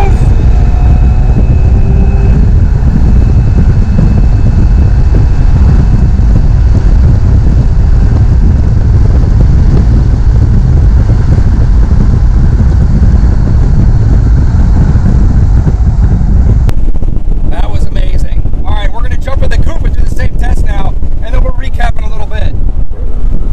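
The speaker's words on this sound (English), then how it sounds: "All right, better launch. You can really hear the turbos." A McLaren 720S Spider's turbocharged engine pulls hard from a launch with the top down, its loud roar buried in heavy rushing wind buffeting; a person speaks briefly near the end.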